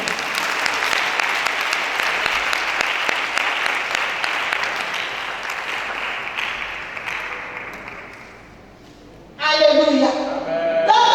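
Sustained applause from an audience at a church couples' seminar, a dense steady clatter of many hands for about eight seconds that gradually fades before a voice begins speaking.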